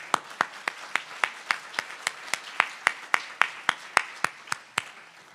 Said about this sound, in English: please give them a round of applause to show our appreciation